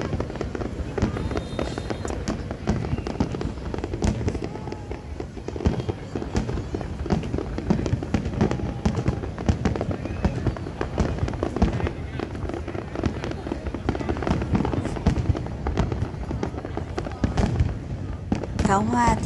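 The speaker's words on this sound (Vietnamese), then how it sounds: "Pháo hoa thì được bắn trên sông Sài Gòn" Fireworks bursting over the Saigon River in Ho Chi Minh City during a 30 April Victory Day celebration, a steady barrage of loud crackling pops and booms going on throughout, with crowd chatter and voices underneath.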